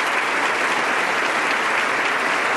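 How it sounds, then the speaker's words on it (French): A church congregation applauds, a dense and steady wash of many hands clapping together that carries on evenly from start to finish with no pauses. "Un applaudissement pour le Dieu qui vit, mes frères et sœurs, avec tout notre cœur."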